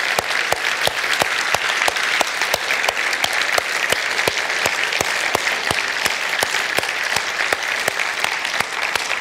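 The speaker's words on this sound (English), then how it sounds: "can we just clap to our God and just thank him for the good things he's doing?" A church congregation claps together in a steady, rhythmic beat, loud and sustained for several seconds, with crowd noise beneath and no talking.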